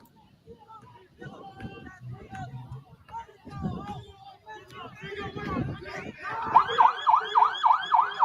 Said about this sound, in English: You're just going to play the sirens?